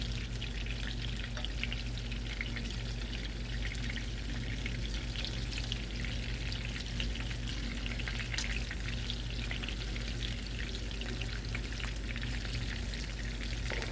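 Garlic shrimp frying in a non-stick pan, a steady, even sizzle and crackle of hot oil that holds at a constant low level throughout with no talking.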